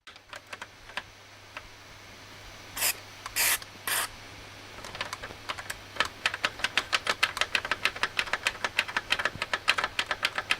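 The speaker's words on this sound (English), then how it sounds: "You need to get lots and lots of switch cleaner in that." Switch cleaner hisses in short spray bursts into the switch of a Sharp GF-666E boombox, followed by a long run of rapid clicking as the switch is worked back and forth close up.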